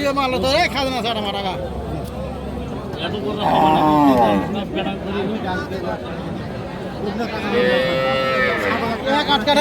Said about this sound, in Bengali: শারুন ভাই আজকে তো গরু কিনে মজা হচ্ছে